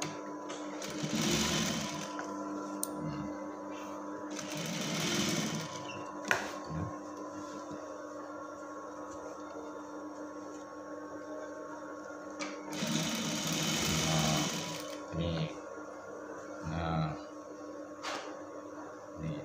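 Sewing machine stitching a lined shirt collar on batik lurik fabric, running in several steady whirring bursts separated by brief pauses, close and moderately loud over a constant hum, with people talking quietly in between.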